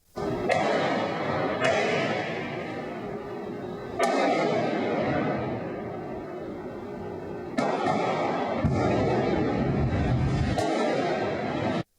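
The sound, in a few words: gunshots and ATM explosions during bank robbery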